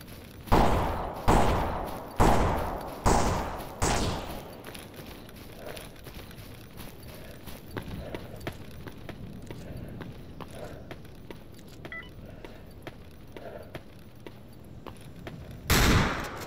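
Four loud, evenly spaced gunshots ring out in S.T.A.L.K.E.R. Anomaly with the desolation mod, each trailing into a long echo, then quieter distant shots and footsteps follow before one more close blast near the end.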